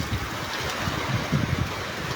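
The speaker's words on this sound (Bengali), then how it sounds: "দেখেন এই যে পানি পানি পড়তেছে" Heavy downpour with running rainwater, a dense steady hiss of rain and flowing water filling the whole clip, fairly close and unbroken.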